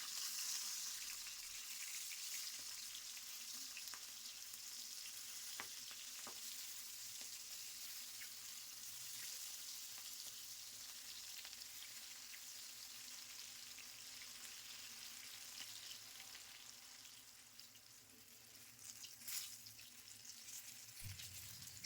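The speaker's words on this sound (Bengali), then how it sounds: "তারপর ঢাকা খুলে ভালো করে নাড়াচাড়া করে বেগুন আর শিম ভেজে নেবেন।" Broad beans and eggplant fry in oil as they are stirred, making a soft, steady sizzle with occasional clicks of the utensil against the pan.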